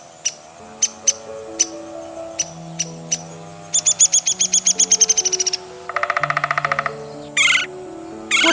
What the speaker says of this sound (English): Woodpecker, avian marvels known for their specialized adaptations for drumming on trees and